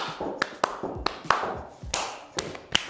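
Rhythmic hand claps during a standing at-home core workout, about eight sharp claps at a steady march pace, close and clear, with soft footfall thuds between them.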